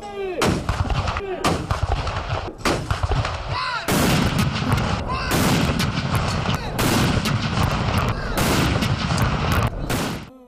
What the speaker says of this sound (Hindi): सूबाई दारुल हुकूमतों में 21 तोपों की सलामी दी गई।